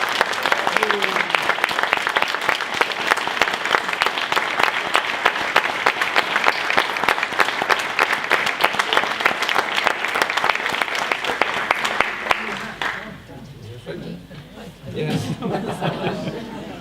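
Loud, dense applause fills a special recognition awards ceremony at a charity AGM for about twelve seconds, with scattered chuckles and chatter, then cuts off abruptly into quieter room murmur.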